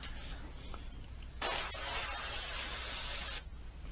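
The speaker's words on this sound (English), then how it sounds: "I've got the airbrush here." An airbrush sprays paint onto a model gondola car, a sudden steady hiss starting partway in, holding for about two seconds and then cutting off, close and clear over quiet room tone.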